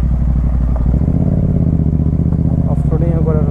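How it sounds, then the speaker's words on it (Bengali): A motorbike rides off-road over rough, rocky ground, its engine chugging loud and close in a steady pulsing rhythm with rattling clatter, while the rider talks over it. "আমি যতক্ষণ ধরে বাইক চালাইতেছি"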